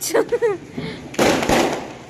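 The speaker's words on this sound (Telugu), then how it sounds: "ఈ బాంబులు పేలుతానాయి" Diwali firecrackers burst at home in two loud, sharp, close blasts about a third of a second apart. Brief voices and whistling tones come just before them.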